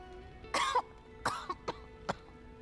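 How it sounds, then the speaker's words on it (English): A character in the video game Lost Eidolons: Veil of the Witch goes into a coughing fit: a harsh, loud first cough, then a second burst and several shorter, fainter coughs spread over a few seconds. "Carmen covers her mouth, going into a coughing fit."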